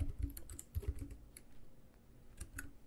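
Keys clatter on a computer keyboard during an Xcode iOS Swift coding session, a close series of quick uneven taps in short bursts with brief pauses, no voices.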